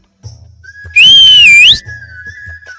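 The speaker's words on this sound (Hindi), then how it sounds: "ये क्या सीटी बजा रही हो?" A single clear, high whistle held for about a second with a slight rise at the end, over faint background hum.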